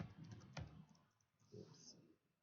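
Soft, quiet clicks of a computer keyboard as a file name is typed, a short burst of keystrokes with a faint voice in the background.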